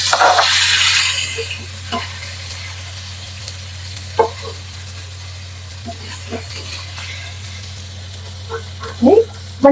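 Chopped chillies hit hot oil with spluttering mustard seeds and cumin, a loud sizzling burst that eases into a softer, steady fry with occasional knocks of a spoon, while a voice talks over it.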